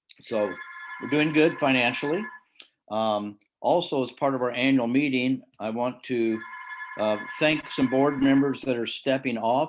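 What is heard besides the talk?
telephone ringing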